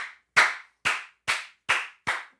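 Six slow, deliberate hand claps, close and crisp, evenly spaced about half a second apart with silence between each, no voices around them.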